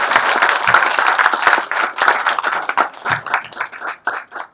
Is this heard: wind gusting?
no